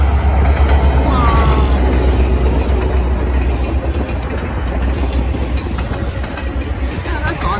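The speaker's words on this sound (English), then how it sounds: "let's wait for the train to cross though" A train rolls steadily past a railway crossing in Alaska with a loud, continuous low rumble and rattling wheels, faint squeals rising now and then, close by and filling the whole stretch.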